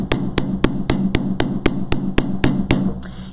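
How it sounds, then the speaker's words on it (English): A hammer planishes jewellery wire in a steady run of about a dozen sharp, evenly spaced metallic taps, close and clear with no talk. "I'm going to continue to planish"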